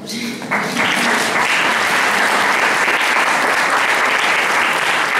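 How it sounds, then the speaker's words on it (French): An audience at a talk bursts into applause, rising quickly into dense, loud, sustained clapping from many hands that fills the room. "oui, on peut l'applaudir"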